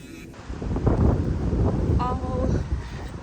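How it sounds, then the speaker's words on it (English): Strong gusts batter the microphone on a very windy day in Toronto, a loud continuous low rumble that swells and stays heavy throughout, with a few faint higher tones briefly cutting through. "it is like super, super windy today"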